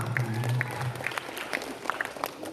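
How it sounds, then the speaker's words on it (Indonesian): An audience claps for everyone during a foundation chairman's briefing session, with scattered, fairly close claps of moderate loudness and a low hum or voice early on. "Ya, tepuk tangan untuk semua."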